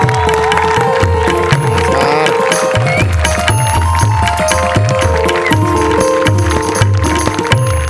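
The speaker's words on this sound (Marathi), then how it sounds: "एकदा जोरदार टाळी त्यांचं स्वागत करूया" A studio audience at a comedy show claps and cheers loudly to welcome a guest. The applause is dense and continuous, mixed with music playing throughout.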